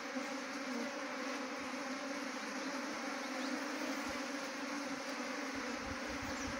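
A honeybee swarm gathered around its queen hums in a dense, steady buzz that stays loud and close throughout, with no voices over it.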